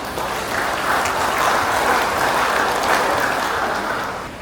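Audience applause at a police community legal outreach event in Indonesia, a steady dense wash of many hands clapping, sustained and even throughout with no voices on top.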